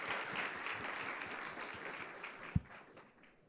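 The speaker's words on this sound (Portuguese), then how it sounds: "Palmas!" Audience at an investment summit applauds quietly and at a distance, a diffuse patter of clapping that gradually thins out, with one sharp knock partway through.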